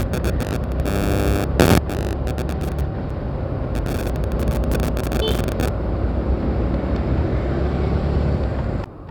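Motorcycle on a road trip from Ratnagiri to Kolhapur, with a loud, continuous engine and wind roar close by and bursts of crackling buffeting throughout, never easing.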